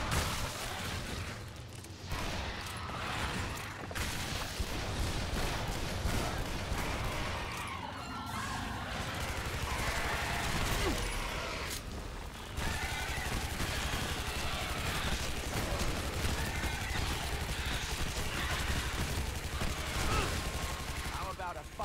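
Rapid gunfire and crashing blasts from the first-person shooter game Shadow Warrior fill the stretch almost without a break, a loud, dense barrage that continues under a voice.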